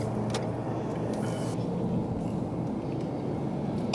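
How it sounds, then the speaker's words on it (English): Steady road rumble of Saturday highway traffic in Atlanta, a continuous low engine and tire drone heard from inside a moving car, with no voices. "In the traffic, y'all. Look on that side of the highway."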